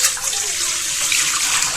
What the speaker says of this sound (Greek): Ξεκινάμε λοιπόν με ένα μεγάλο σκεύος, στο οποίο θα βάλουμε νερό 500 γραμμάρια.